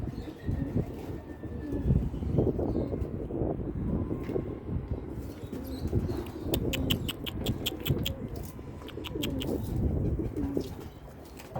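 Soft, low pigeon coos repeat against a steady outdoor background, with a brief burst of rapid chirps partway through.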